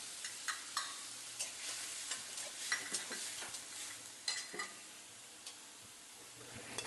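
Onion masala for masvadi is stirred in a pan. Soft sizzling runs underneath, and the spoon makes irregular clinks and scrapes against the pan, some close and sharp, others faint.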